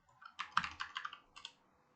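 Quick bursts of keystrokes on a computer keyboard as names are entered, a cluster of rapid clicks then a brief pause and a few more taps, close and fairly quiet with no talking.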